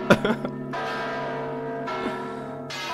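A large bell rings with a few quick clanging strikes, then a long, humming resonance that swells again in slow, sustained waves.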